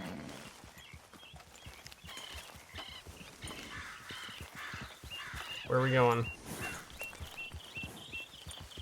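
In Red Dead Redemption 2, a horse's hooves clop at a walk under a rider. Crows caw nearby and a loud bird call cuts in partway through. Voices talk over the sounds.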